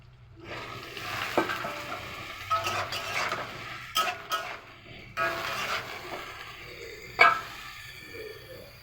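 Potato, onion and tomato are stirred in a frying pan for ghugni, with scraping spoon strokes, occasional clinks and a soft sizzle throughout.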